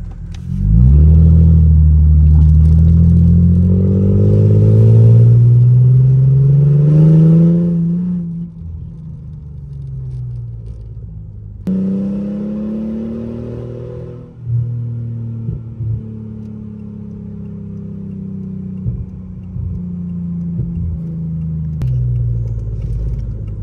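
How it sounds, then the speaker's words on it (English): Mercedes sports sedan engine on the move, loud revving climbs at first then settling into a steadier cruising hum with gear changes and rising and falling pitch, heard from inside without talk. "I miss driving this car."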